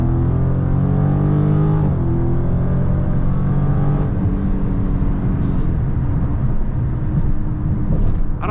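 A Last Call Dodge Charger Scat Pack widebody accelerates hard, its loud, close engine note climbing in pitch through a pull, easing briefly, then building again.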